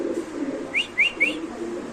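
Three short rising whistly calls from fancy pigeons of large size at a pigeon farm, evenly spaced, with a low cooing murmur beneath; fairly close, no talking.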